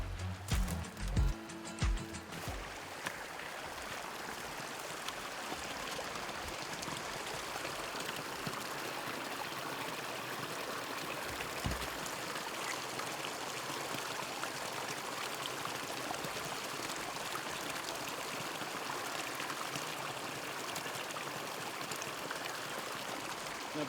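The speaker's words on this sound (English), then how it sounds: "tap the local stream for fresh drinking water." A mountain stream near Kremmling, Colorado flows steadily and close by, a continuous broadband rush of water with a few knocks and handling sounds in the opening seconds and no talking.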